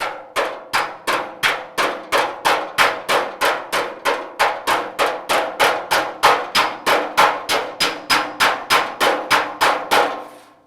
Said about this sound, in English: I'm just doing light little taps, listening for the ringing.